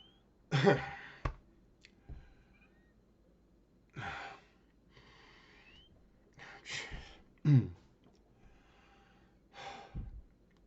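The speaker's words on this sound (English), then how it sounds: "Just whistling there for a moment. I have asthma." Several breathy gasps and sighs from a person with asthma, some with a faint whistling wheeze, spaced irregularly with quiet pauses between, close and soft.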